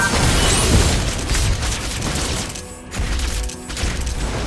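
A turret blows up in a team video game match, a dense rumbling boom that fills the moment and then breaks into scattered mechanical crackle as it fades.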